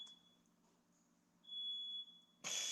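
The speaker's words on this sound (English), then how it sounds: "no way, a smoke detector" A smoke detector goes off indoors with a single sustained high electronic beep, fairly loud and alone, followed by a sharp burst of noise at the end.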